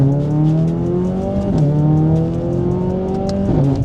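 A Mercedes-Benz CLA45s AMG Edition 1 drives under load, its engine drone loud and steady with rising pitch and two brief gear-shift dips, heard close with no voices.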